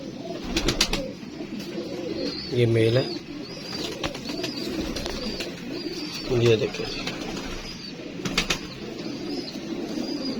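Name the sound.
pigeons cooing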